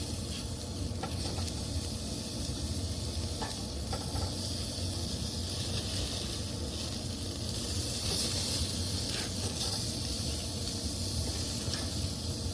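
Picanha, the top sirloin cap steak, searing in a hot pan, a continuous loud hiss and sizzle with a few brief crackles, heard without speech.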